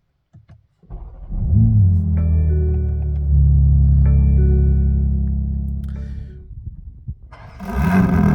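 A 2022 Toronto Red BMW M3 Competition xDrive starts up from inside the cabin: brief clicks, a cranking whir, then a loud rising roar that settles into a deep idle before revving again.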